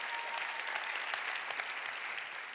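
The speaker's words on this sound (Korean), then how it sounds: "박수 치라 이게야" A church congregation at a Wednesday worship service claps together in a steady, dense wash of applause, moderately distant and even throughout.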